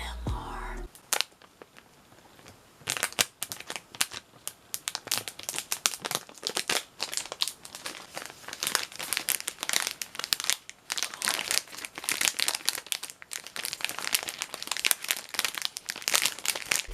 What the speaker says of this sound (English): So I finna unbox it right now. Here's a little ASMR.